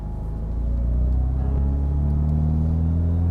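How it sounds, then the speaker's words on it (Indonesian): A Toyota Celica RA60 with an aftermarket, non-stock exhaust idles and rumbles close by, a loud, deep, steady drone with its pitch rising slightly as the engine revs a little. "kalau kalian knalpotnya masuk ke audio, suaranya agak berisik karena memang knalpotnya udah nggak standar nih"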